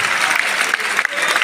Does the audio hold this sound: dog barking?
no